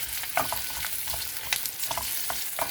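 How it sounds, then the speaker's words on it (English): Garlic and green chili fry in a pan with a dense, steady crackling sizzle, close and fairly loud, broken by light scraping stirs and small pops, and no one talks. "garlic, green chili. Fry it till it loses its raw smell."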